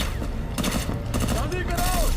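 Rapid bursts of automatic gunfire rattle loudly and continuously through a tense combat scene in a Hindi-dubbed action film, with shouted voices mixed under the shooting.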